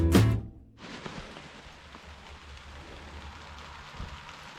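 Light rain begins to spit outdoors, settling into a soft, continuous hiss after a loud, brief sound at the very start.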